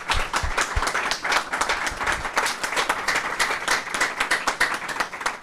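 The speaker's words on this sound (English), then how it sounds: "another round of applause for all of our speakers" Audience applause for a panel of speakers at a talk on people's movements, dense continuous clapping from a crowd lasting the whole stretch, fairly loud and with no voices over it.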